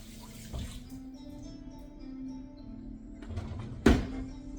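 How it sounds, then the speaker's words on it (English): Hands being washed under a running kitchen tap while cooking: a steady stream of water with splashes, ending in a short louder gush. "Let's wash off our hands here."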